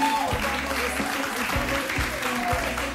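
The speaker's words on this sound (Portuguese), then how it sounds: "Eu peço uma grande salva de palmas." Studio audience on a Portuguese TV show applauds to welcome a guest, full clapping over rhythmic thumping music beats, with a voice briefly audible underneath.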